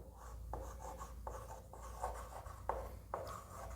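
A sentence being written on a board, a steady run of scratchy strokes with short pauses between words, close and fairly quiet, with no talking.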